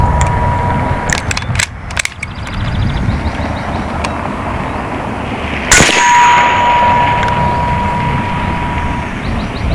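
Shots from an AEA Challenger Pro .30 caliber air rifle ring out on a 100-yard range: two sharp cracks, one early and one midway, each followed by a faint metallic ring over steady outdoor background noise.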